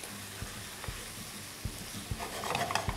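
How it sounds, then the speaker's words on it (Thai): Chicken stir-fried with sauce in a pan for lo mai kai, Chinese-style sticky rice with chicken: soft sizzling under repeated dull scraping and stirring knocks, growing busier toward the end. "ใส่ลงไปนะครับแล้วก็ผัดเล็กน้อยนะฮะ"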